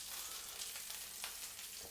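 Sausages and onions fry in a pan, giving a close, steady sizzle with brief crackling pops on top, and no talking.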